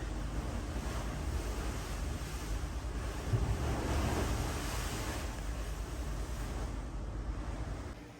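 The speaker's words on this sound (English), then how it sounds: "so I can hear the waves all night long" Ocean waves washing on the shore around the Faroe Islands, a steady broad surf roar mixed with wind noise, fairly faint and continuous with a gentle swell in the middle.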